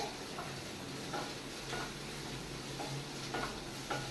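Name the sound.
frying onion in a pan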